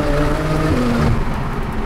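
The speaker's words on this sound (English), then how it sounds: "so you really hear the turbo spool" A boosted Porsche Techart build with Kline manifolds and D-cut exhaust revs hard, its turbo spooling with a rising whine over a loud, close engine roar that eases off toward the end.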